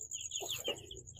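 Eight-day-old broiler chicks give a few faint, high cheeps and soft clucks close by in a quiet coop.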